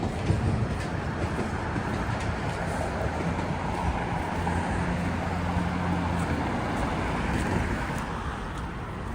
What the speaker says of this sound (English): Subway. It's much faster now,